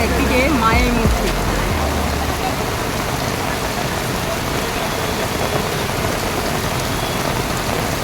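Rain pours steadily at the Ahiritola Durga Puja pandal in North Kolkata, a dense, even hiss of drops on surfaces throughout, with a brief low rumble and a murmur of voices at the start.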